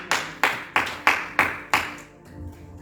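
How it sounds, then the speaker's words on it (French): Church congregation clapping together in six evenly spaced, loud communal claps, then a brief decaying ring of the room, with no voices. "Acclamons la parole de Dieu."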